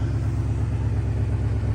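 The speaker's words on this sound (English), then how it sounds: "I think it got a little exhaust leak on it" A 1970s Pontiac engine idling with a small exhaust leak, a steady low, throbbing rumble heard close with an even pulsing beat and no talk.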